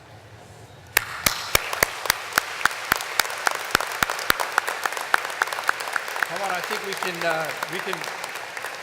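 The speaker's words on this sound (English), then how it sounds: "with a warm round of applause, join me in thanking your family and friends who are here today" A graduation audience claps for the families and friends attending a criminal justice studies ceremony. Sharp, loud, evenly spaced claps begin the burst, then blend into scattered applause while a voice talks over it.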